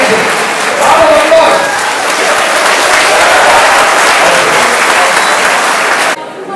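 Loud, sustained applause from a lecture audience fills the hall for about six seconds, dense and even, then cuts off abruptly near the end.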